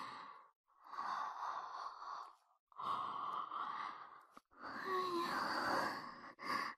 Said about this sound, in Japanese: 私もあくび映っちゃった。